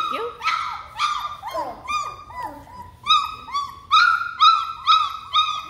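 Several puppies whimper and yip in a rapid run of high, wavering cries, close and fairly loud, with no talk over them.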